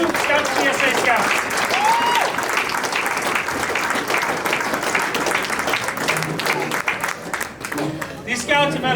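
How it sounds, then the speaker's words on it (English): Loud, continuous clapping from an audience at a Cub Scout Arrow of Light crossover ceremony honoring new Scouts, with crowd voices and cheers mixed in. "Let's give one more big round of applause for all 7 of our new Scouts BSA Scouts."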